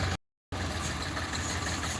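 A tractor carrying a borewell drilling rig approaches with a steady, fairly loud engine rumble, interrupted once by a brief total dropout before the droning resumes.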